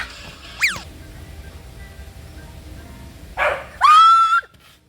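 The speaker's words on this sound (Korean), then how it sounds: "강아지가 짖었잖아." A small dog gives a brief sharp yip, then after a quiet pause a short burst of high, squeaky barks and a whining yelp close by.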